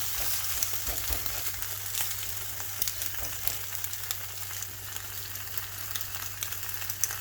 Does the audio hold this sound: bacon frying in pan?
yes